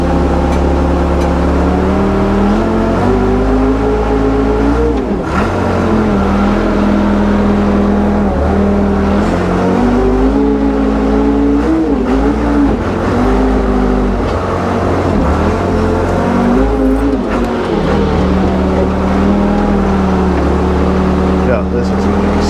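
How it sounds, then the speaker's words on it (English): Car engine idling and pulsing in short bursts as it is shifted in and out of drive to inch up onto a trailer, steady and close with a person talking over it. "I'm having to shift it in and out of drive here to inch it up to the trailer"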